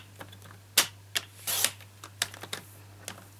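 Paper card being cut for a handmade flip card, a run of crisp, irregular snips and clicks, some louder than others, close by with no talking.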